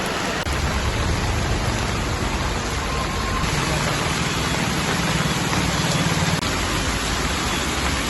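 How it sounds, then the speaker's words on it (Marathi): Heavy unseasonal rain falls on the streets of Khed town in Ratnagiri district as a steady, dense wash of noise that lasts throughout, with a faint engine-like rumble underneath. "पावसानं खेड शहराला घेरलं काही मिनिटांमध्येच रस्ते जलमय झाले"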